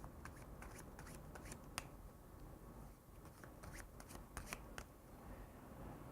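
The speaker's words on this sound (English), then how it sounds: "They can now shuffle it. They'll shuffle it again." A deck of playing cards is shuffled up close at a magic table, a quiet run of crisp riffling snaps and flutters in short bursts, with no voices.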